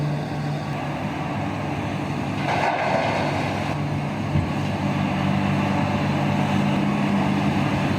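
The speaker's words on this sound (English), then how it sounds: "Listen to that engine roar." Heavy mining machinery at work, an excavator loading Belaz haul trucks, giving a continuous low engine roar that swells slightly partway through, steady and fairly close with no talk.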